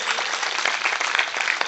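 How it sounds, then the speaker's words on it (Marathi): Audience at a kirtan at a Ram temple claps steadily for children of an institution, a dense, even patter of many hands without pause. "या संस्थेतल्या मुलांसाठी एकदा टाळी वाजवा श्री गोंदेकर"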